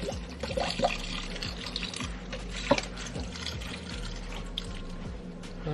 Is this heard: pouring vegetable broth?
yes